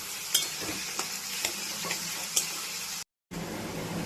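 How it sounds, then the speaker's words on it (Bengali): Potatoes fry in a pan with a steady sizzle, broken by soft, regular scrapes as they are stirred, and a brief cut-out near the end. "নুন দেওয়ার পর কিছুক্ষণ ভেজে নেব আলুটাকে, একটু লাল লাল হবে"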